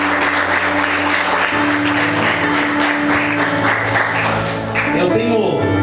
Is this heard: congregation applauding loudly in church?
yes